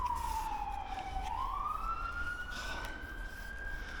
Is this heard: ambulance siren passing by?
yes